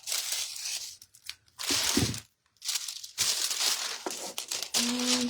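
Gold craft foil is crinkled, crumpled and torn by hand, close and bright, in a few bursts separated by short pauses.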